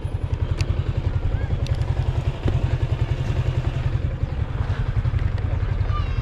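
A Yamaha Aerox motorcycle idles close by with a loose chain, its steady mechanical chatter rattling rhythmically throughout beneath the running engine.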